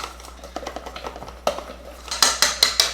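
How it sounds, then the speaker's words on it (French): Chocolate cake batter with cocoa powder being gently mixed, a utensil tapping and scraping the bowl in quick repeated strokes that grow louder and brisker toward the end, close up with no speech. "On mélange délicatement, il y a de la poudre."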